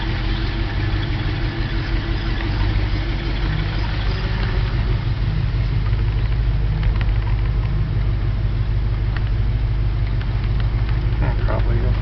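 A car with recently rebuilt brakes backs out of a driveway for a short drive around the block, its engine a steady low rumble heard from inside, constant and close throughout.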